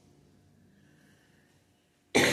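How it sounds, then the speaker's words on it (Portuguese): A single sharp cough from a woman with a cold or flu bursts out near the end, loud and close, after a stretch of near silence. "Desculpa, essa tosse está inconveniente"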